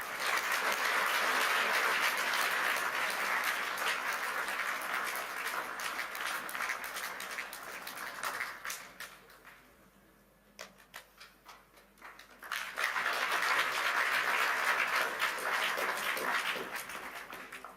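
Audience applause at the closing session of the Davos 2026 meeting, a sustained wash of clapping that fades out midway, goes almost quiet for a few seconds, then swells back up to full strength.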